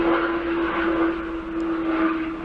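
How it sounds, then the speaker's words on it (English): A helicopter's steady engine drone with a sustained tonal whine passes overhead at a moderate distance, swelling and fading slightly. "It's a helicopter flying over there."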